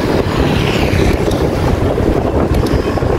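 Strong wind roaring and buffeting the microphone in a constant loud rush, with a faint sense of open water nearby.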